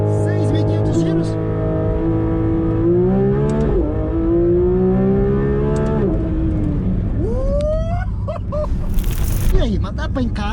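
A Porsche 911 GT3 RS 992 engine revs hard, its pitch climbing and dipping in several sustained surges up to about 6,500 rpm before a sharp final blip and crackle, loud and close, with a voice speaking partway through.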